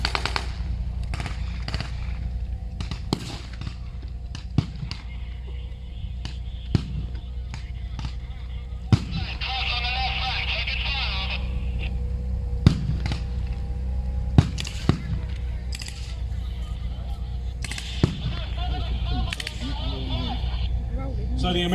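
A Spandau machine gun fires in a WW2 battle reenactment at Tankfest 2021, with scattered sharp shots and bursts across a broad outdoor rumble, and someone talks throughout.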